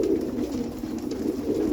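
Roller pigeons coo in a steady, low, throaty rolling rhythm that continues through the whole short stretch, fairly close and moderately loud, with no talking.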